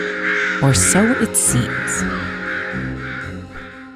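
Several crows caw loudly at close range in a burst of harsh calls, while a voice talks over them throughout.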